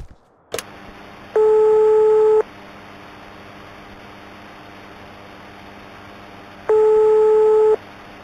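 An unanswered phone call rings out as two long electronic ringback tones about five seconds apart over a quiet hiss on the line, preceded by a click at the start and with no talking.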